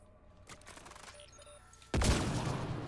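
Gunfire in the video game Mass Effect Andromeda: a low game backdrop with faint activity, then a sudden loud blast that holds as a dense roar for the last second.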